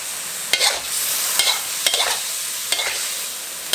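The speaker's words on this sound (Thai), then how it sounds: "ผัดคลุกเคล้าให้เข้ากันค่ะ" Pork liver stir-fried with banana peppers and sauces, a constant bright hiss of frying broken by periodic spatula scrapes against the pan, close and loud with no talking.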